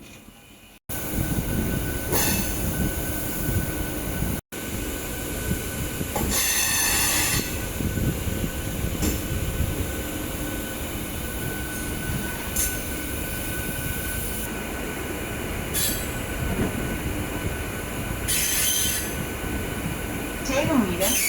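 A MEMU passenger train on the Chennai to Thiruvarur route rumbles steadily along the tracks, with continuous wheel and rail noise, occasional squeals and clanks, and faint voices underneath.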